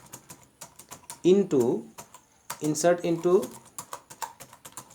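SQL being typed on a computer keyboard: quick, light key clicks in uneven bursts, close and fairly soft, with a person speaking over them partway through.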